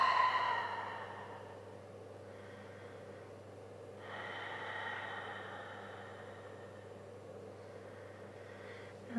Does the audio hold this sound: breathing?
yes